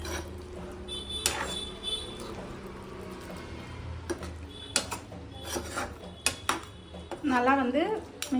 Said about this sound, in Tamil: மிக்ஸ் பண்ணி விட்டுக்கலாம்